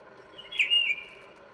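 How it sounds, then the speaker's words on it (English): A bird-chirp notification alert from a phone going off, sounding as a single short bright chirping call that rises over faint room noise, alone without talk. "When you hear that bird, doo-doo, that bird chirping, that's my YouTube going off with all my notifications"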